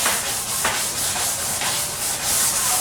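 Steady abrasive rubbing of sanding across a heavy cherry wood and green epoxy headboard, a close, continuous scuffing with rhythmic strokes about every half second.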